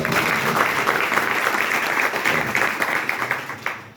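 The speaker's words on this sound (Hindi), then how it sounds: "तालियां बजाइए" A crowd at a public event with actor Rajpal Yadav in Savarkundla breaks into sustained applause, a dense, even patter of many hands that thins slightly toward the end.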